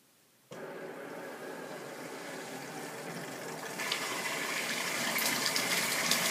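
After a moment of quiet, water starts flowing with a sudden steady rush through an Alkalux water ionizer with a new filter, the hiss growing slightly stronger and sputtering near the end.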